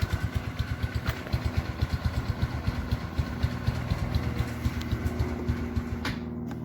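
A Sinnis Strada motorcycle engine runs steadily for several seconds, its close, even low putter of firing pulses carrying on alone without talk.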